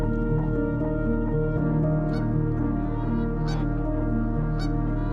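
Trumpeter swans give loud, nasal, horn-like honks, overlapping and sustained, with several birds calling close by. No one talks over the calls.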